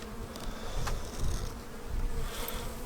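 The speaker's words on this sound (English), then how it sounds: "so you got bees up in here" A dense, steady buzzing of many honey bees in a hive close by, droning continuously with a low hum underneath and occasional louder passes.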